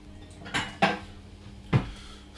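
Ceramic soup bowls clink and knock as one is picked up to serve carrot and ginger soup, three distinct close clatters spaced over a couple of seconds in a quiet kitchen with no talk.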